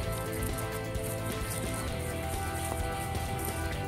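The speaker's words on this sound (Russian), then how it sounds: "Дождик." Light rain falling outdoors, a faint, steady hiss and patter with a constant background hum, no voices present.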